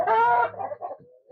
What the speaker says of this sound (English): This is the Orpington. Cooking hen.